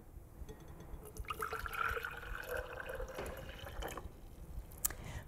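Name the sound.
slowly filling a jar with hot water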